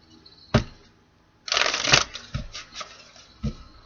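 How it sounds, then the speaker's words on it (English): A deck of tarot cards is shuffled up close: a sharp tap, then a quick riffling flurry followed by a few softer taps and knocks as the deck is squared, crisp and fairly loud with no talking. "One more shuffle, spirit."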